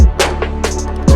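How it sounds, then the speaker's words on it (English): Ice cubes dropped into a cup while making an iced matcha latte, several close, sharp clinks and clatters spaced over about a second, loud against a quiet room. "Then put ice in your cup."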